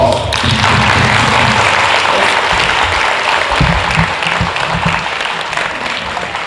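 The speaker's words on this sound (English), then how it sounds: "Finally, give yourself a round of applause." A middle school symposium audience gives loud, sustained applause, a thick roar of many clapping hands with some low thumps and crowd murmur, tapering slightly toward the end.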